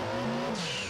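Tires squealing on a Japanese build car in an old racing video game, engine drone sliding down in pitch before a bright screech cuts in, loud and close, brief, with no talking.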